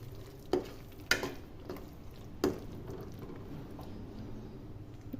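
Paneer gravy with kasuri methi stirred in a pot, a soft low bubbling sizzle broken by three or four sharp spoon scrapes and knocks, faint and close.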